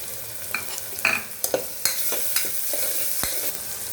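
Chicken curry being stirred and fried in a pan, with tomatoes and green chillies added: a steady sizzle runs throughout, broken by several sharp scrapes and clinks of a spoon against the pan.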